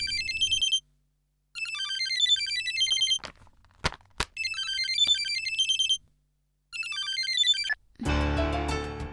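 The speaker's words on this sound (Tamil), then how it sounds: "Sir, phone." A telephone plays a bright electronic ringtone melody in repeated bursts with short gaps between them, loud and close, with a brief clatter near the end.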